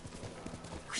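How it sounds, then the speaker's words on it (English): Horse hooves clip-clop in a steady trot in Ghost of Tsushima as a mounted rider comes through, the beat close and moderately loud, with a brief higher whinny-like burst near the end. "There's a guy on a horse coming through."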